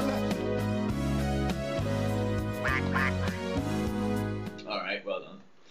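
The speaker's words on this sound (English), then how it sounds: "Quack is definitely the most annoying thing." A duck-quack buzzer from the Buzz! quiz game sounds over bright game music, with a voice talking; the music cuts away near the end into a short burst of noisy sound.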